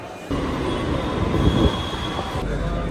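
A Delhi Metro train runs steadily with a loud, continuous rumble and a faint whine, swelling briefly mid-clip before easing, heard from on board with no talk.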